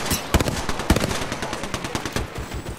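Rapid distant gunfire in the game Apex Legends, bursts of automatic shots with a few louder sharp cracks, continuous and rattling throughout.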